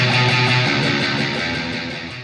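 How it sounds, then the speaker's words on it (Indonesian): An electric guitar played through a tube amplifier rings out loud and close with a thick, harmonically rich sustained tone that slowly decays over about two seconds. No voices are heard. "Kalau tabung tuh suaranya kayak gini nih."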